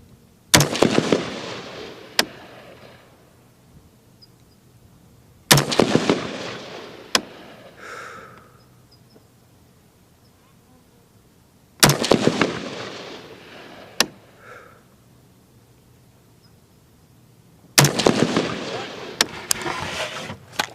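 Rifle shots fired at a target through an LPVO scope on a range: four loud, sharp cracks spaced several seconds apart, each with a short outdoor echo and decay, plus a few fainter clicks between them.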